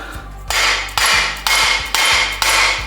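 A hammer knocks a part into a Harley Davidson four-speed gearbox during a rebuild, striking five loud, sharp metallic blows about half a second apart, each ringing briefly before the next, with no talk.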